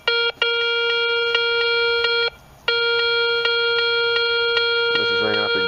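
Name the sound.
Garrett Ace 250 metal detector tone for a dime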